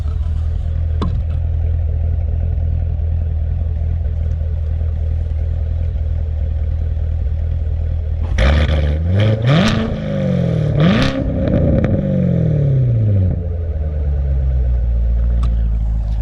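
Lowered Chevrolet Corvette C7 with its engine idling in a deep steady rumble, then two sharp revs that climb and fall before settling back to idle, loud and close.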